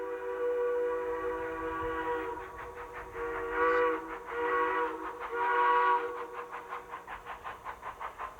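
A train crossing the Rocky Mountains gives long steady whistle blasts, then its wheels clatter in a quickening rhythm over the rails.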